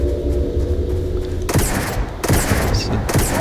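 Magpulse rifle in Starfield fires in separate loud bursts of rapid cracking shots, each burst a broad noisy blast lasting under a second, set against a low humming background.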